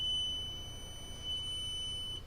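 A multimeter in continuity mode, probing a short on a MacBook Retina A1398 logic board, emits a steady high-pitched tone that stops briefly and then resumes, clear and close in a quiet room.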